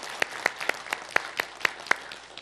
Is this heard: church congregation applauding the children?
yes